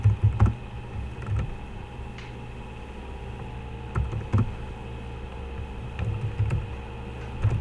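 Keyboard typing on a computer while a method is written for a product controller in a Spring MVC CRUD project, in scattered bursts of soft clicks and taps over a low steady hum.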